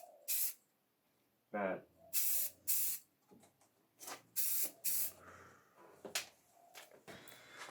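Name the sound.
spray painting primer coats on wheels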